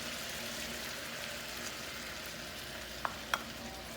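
Pork adobo simmering in a pan after vinegar and soy sauce go in, a soft steady sizzle and bubbling at close range, with a couple of light utensil clinks near the end.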